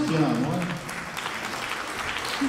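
A faint, steady wash of audience applause at an opera gala concert greets the finalists, with a brief voice audible over the clapping at the start.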